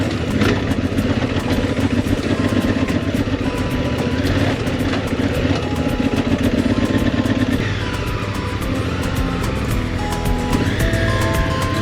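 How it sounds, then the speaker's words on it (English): A 1000 cc motorcycle lugs in first gear up steep cobblestones in a small Mexican mountain town, a steady close, loud, rumbling low engine drone that continues without pause and with no talk. "you can hear my 1000 cc's lugging in first gear"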